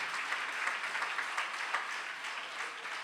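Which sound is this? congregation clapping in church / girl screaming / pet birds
congregation clapping in church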